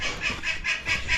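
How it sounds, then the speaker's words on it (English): Ducks and geese kept in a shed on a cattle farm in winter give a run of repeated honks and squawks, rhythmic and fairly close, five or so calls in quick succession. "Ducks and the geese are all right in there."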